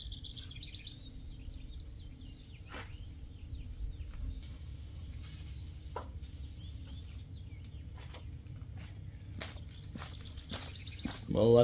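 An aerosol can sprays rust neutralizer onto the frame of a 2005 Ford F250 Super Duty in short hissing bursts with pauses between them, over a quiet outdoor backdrop with birds chirping now and then.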